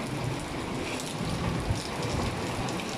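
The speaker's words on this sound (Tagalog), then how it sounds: "malakas pa rin yung bagyo" Steady heavy typhoon rain pours in a dense, constant roar, with a low rumble underneath and no voices.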